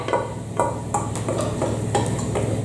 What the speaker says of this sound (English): Just add your potatoes gently to it, and you can hear them gently sizzling.